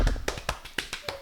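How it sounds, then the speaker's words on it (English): A brief burst of hand clapping follows a podcast episode: about six sharp, evenly spaced claps, close and fairly loud, stopping after barely a second. "You guys clap."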